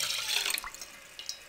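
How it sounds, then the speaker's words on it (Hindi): Milk is poured into a pan on a stovetop, a short, soft liquid splash and trickle lasting under two seconds with no talking. "पैन में 1 कप दूध ऐड कर देंगे"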